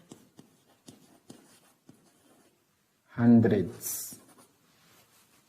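A marker or pen ticks and scrapes in brief strokes on a board or paper during a maths lesson, soft and close, then a voice briefly speaks over it.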